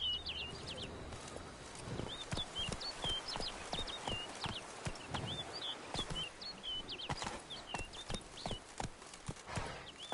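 Geralt's horse Roach galloping in The Witcher 3, with rapid, rhythmic hoofbeats pounding close and loud over bright birdsong.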